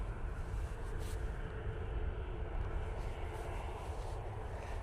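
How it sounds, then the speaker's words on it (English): A Ryanair airliner on final approach to Manchester Airport gives a steady, distant engine roar and rumble, broad and even throughout, heard on its own in cold open air. "On final, we have another Ryanair."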